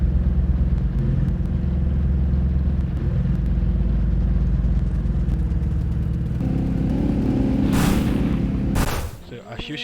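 Engine of a drivable old car in the ALS Horror Engine game, a steady low droning hum running loud and continuous for most of the stretch, shifting pitch partway through before cutting off near the end.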